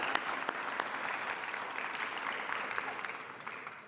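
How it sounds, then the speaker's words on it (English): A round of applause from an audience at an employee recognition and retirement ceremony, a dense, even wash of clapping that holds steady for about four seconds at moderate distance. "Let's give them a round of applause."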